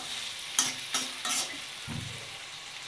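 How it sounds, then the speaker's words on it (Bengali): Eggplant pieces fry in oil in a pan, a steady close sizzle broken by a few sharp stirring scrapes of a utensil, with no voices. "আরও কিছুক্ষণ ভাজবো আমি।"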